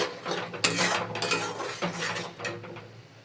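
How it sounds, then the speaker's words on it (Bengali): Lote fish jhuri being stirred and dry-fried with spices in a pan, with a run of clattering metallic scrapes and knocks of a utensil against the pan, loud and close, with no talking. "আমি এই মশলাগুলোর সাথে এটাকে খুব সুন্দর করে নেড়ে ছেড়ে একদম শুকনো শুকনো করে ভেজে নেব।"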